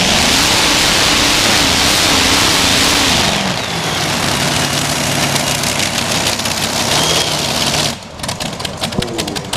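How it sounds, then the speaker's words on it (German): A modified tractor-pulling machine with multiple engines roars loud and close at a 2023 pulling event in Krumbach. Its pitch wavers and shifts midway, then the level drops sharply near the end as one engine cuts out. "Da ist ein Motor ausgegangen. Das konnte man hören."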